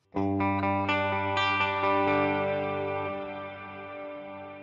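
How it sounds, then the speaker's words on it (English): An electric guitar run through a Fractal AX8 with only reverb on plays a few chords that ring out loud and sustained, then a long smooth reverb tail slowly fades, with no talking. "Let's do it with just the reverb and not the delay on. So here's the reverb again."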